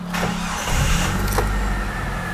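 A used car with 152,000 km on the clock cranks and fires up nearby, the starter whirring briefly before the engine catches with a surge and then settles into a steady idle around 900 RPM.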